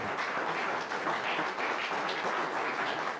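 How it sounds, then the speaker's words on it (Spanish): Congregation applauding during an afternoon church service, a steady, fairly soft wash of clapping that continues evenly throughout without any voices. "Den un aplauso al Señor en esta tarde"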